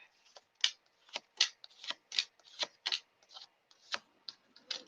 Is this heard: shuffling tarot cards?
yes